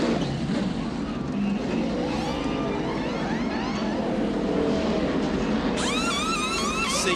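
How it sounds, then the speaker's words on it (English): NASCAR stock cars pit during the 2011 Aaron's 499 race, with a continuous loud roar of engines filling the scene and a commentator speaking over it. "Lead lap cars pitting this time."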